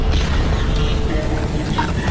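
A loud, booming explosion from an animated Skibidi Toilet episode rumbles heavily and fills the whole short stretch without a break.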